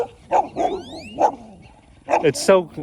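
A pack of dogs barks and yips in bursts, several overlapping voices up close with a few high, rising whine-like calls. Two short pauses separate loud clusters of barking.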